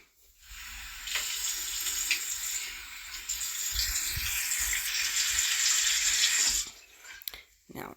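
Steady running tap water splashing into a sink while a face is rinsed, a continuous close hiss lasting several seconds before cutting off, followed by a few small drips and handling sounds.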